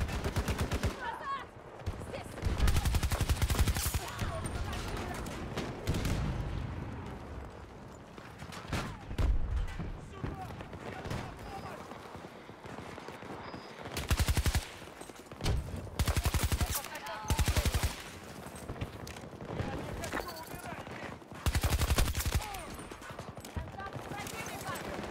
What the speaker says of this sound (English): Getting shot from the sides.